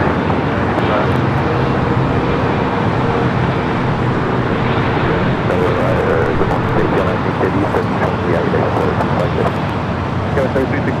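Airliner taking off from runway 25 right at LAX, a broad, loud engine roar holding steady throughout with radio chatter talking over it.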